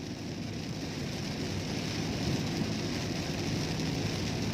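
Heavy, sustained rainfall pours so thickly that visibility is lost, a steady dense roar of rain with a low rumbling undertone, continuous and even throughout with no voices.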